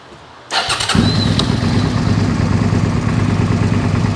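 Suzuki SV650 motorcycle, carbureted and with its fuel tank loosely fitted, cranks briefly and then fires right up into a steady, loud idle that continues to the end.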